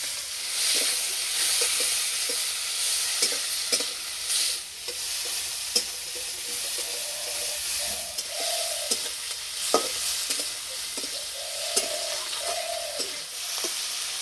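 Onion and tomato fry in hot oil in a village kitchen, a steady loud sizzle broken by regular clinks and scrapes of a stirring spoon against the pan, with no voices.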